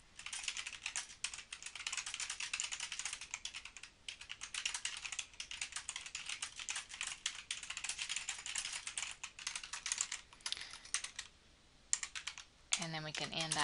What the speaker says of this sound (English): so I'll go ahead and type that in.